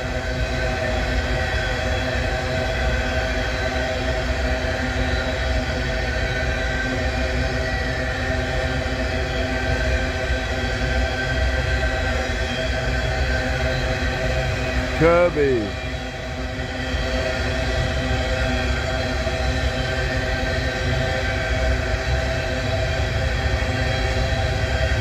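A freight train's diesel locomotive pulls up a grade, a steady low engine drone with a faint rail whine that carries on for the whole stretch while someone talks over it.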